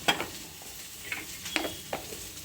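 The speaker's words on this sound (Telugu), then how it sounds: "వేసి బాగా కలుపుకుందాం" Idli batter being stirred with salt mixed in, soft wet scraping and scooping strokes, quiet and close with a few sharper clicks of the spoon against the vessel.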